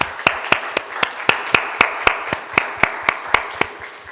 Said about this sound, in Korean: 이분들을 위해서 감사의 박수를 한번 하겠습니다.